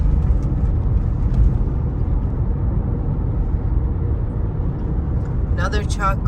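A truck passing on the Ofankor-Nsawam road construction site in Ghana, a steady loud engine and tyre rumble that holds throughout, close to the microphone, with a brief higher rattle near the end.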